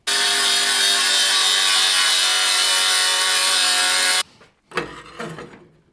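A small piece of sheet metal is cut with a power tool in a metal shop, a loud, steady high-pitched whine for about four seconds that stops abruptly, followed by a few short scraping and handling sounds.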